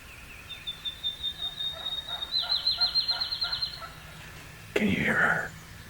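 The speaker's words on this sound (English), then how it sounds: "There's another one yelping back here off of my left shoulder. A hen." A wild turkey hen yelps in a steady series of short, rising notes, moderately distant, followed by a brief rustling thump.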